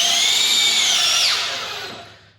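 A drill with a T20 bit drives a composite deck screw, giving a loud, close, high whirring spin that holds steady, dips in pitch as the screw seats, then winds down and fades to quiet.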